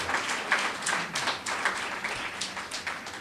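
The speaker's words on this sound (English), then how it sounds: "Doesn't that deserve a round of applause?" Clapping at a GSAT awards ceremony in South West St Elizabeth rises for the students being honored, a moderate, uneven patter of many hands that carries on steadily throughout, with no voices over it.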